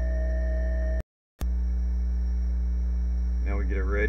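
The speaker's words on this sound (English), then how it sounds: "Then you'll start hearing tones on the computer" An Atari 400 computer loading software from a 410 program recorder gives off steady electronic hum and tones with a brief dropout, and a voice comes in over the drone near the end.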